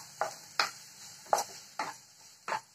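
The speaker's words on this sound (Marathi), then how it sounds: "चांगलं परतवून घेते मऊसर होईपर्यंत" Chopped onion being stirred in a pan over low heat for a Marathi red amaranth stir-fry, heard as a few distinct scraping strokes of the spoon at an uneven pace over a faint sizzle, close and moderately quiet.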